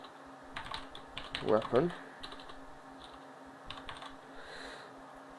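Keys clack on a computer keyboard in short bursts, close and moderately loud, while someone talks over the typing.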